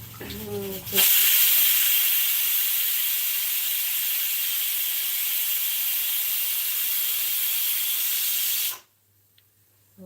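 A pressure cooker cooking dal lets out a loud, steady jet of steam for about eight seconds, then cuts off abruptly.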